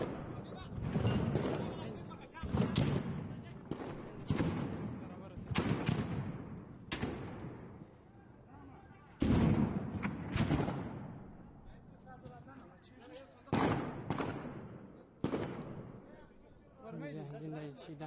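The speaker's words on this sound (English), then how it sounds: "you can just hear kind of the noises, the sound of, the bombs, the gunshots, whatever's happening there." War in Kandahar: repeated heavy booms and bursts of gunfire, some close and loud, others duller and farther off, arrive every second or two over a steady low rumble, with voices audible at times.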